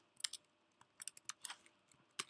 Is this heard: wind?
no